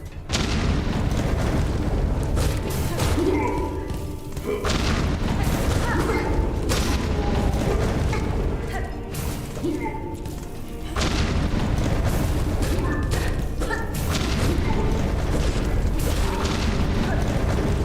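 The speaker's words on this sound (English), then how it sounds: "That was quite the bomb trap." A bomb trap in the video game Silksong blows up with heavy booming blasts, dense rumbling and clattering debris filling the whole stretch at a loud, steady level with brief dips.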